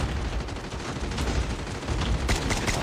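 An SKS rifle in Call of Duty Mobile fires repeatedly, loud sharp reports crowding together into a dense burst of gunfire with no pauses between them.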